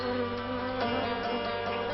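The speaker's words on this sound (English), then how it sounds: "Squadrons of carnivorous rainforest wasps take to the air." Carnivorous rainforest wasps take to the air in a steady, close buzzing drone that continues unbroken for two seconds, with no voices.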